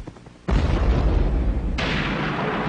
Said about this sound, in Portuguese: A explosão das bombas atômicas de Hiroshima e Nagasaki